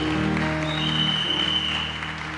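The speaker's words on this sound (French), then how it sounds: "Acclame la parole de Dieu." Church congregation applauding during a Sunday service, a steady dense clapping that holds evenly throughout, with musical tones sounding underneath.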